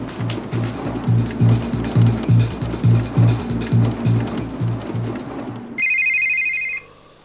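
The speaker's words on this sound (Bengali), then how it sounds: "আবার ফোন।" A mobile phone ringtone plays loud and alone: a repeating rhythmic beat pattern, then a bright, sustained ringing tone near the end before it cuts off.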